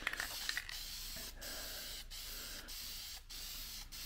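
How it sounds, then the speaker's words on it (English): Bursts of aerosol wrinkle paint spray a car valve cover, several hissing blasts separated by short pauses, close and fairly quiet, with no talk. "So let's just start spraying."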